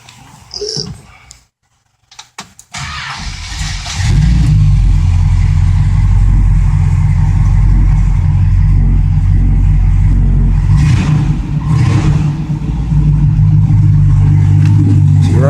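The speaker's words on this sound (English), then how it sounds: "So I'm gonna fire it up. Let you guys hear it run." A 1965 Plymouth Fury fitted with new air shocks is cranked over. After a brief pause its engine catches and settles into a loud, steady idle that rumbles on close by, with a slight surge near the end.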